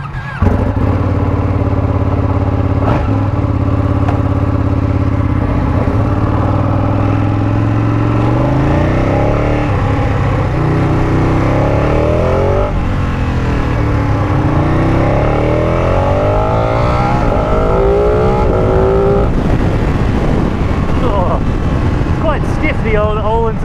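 A 2018 Ducati Panigale 959 Corse motorcycle with a quick shifter, ridden hard on the road, its engine loud and close, revving and climbing through gears with rising and falling pitch under steady wind noise.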